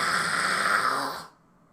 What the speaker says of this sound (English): So for high screams, or screams that sound like this,